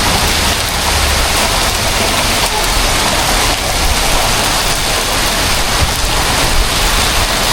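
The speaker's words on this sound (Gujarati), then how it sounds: "જો તમને બતાવું કેવો વરસાદ આવે અહીંયા" Heavy monsoon rain pouring down in Surat, a dense, loud, unbroken hiss of falling water on surfaces that stays constant throughout, with no distinct voices over it.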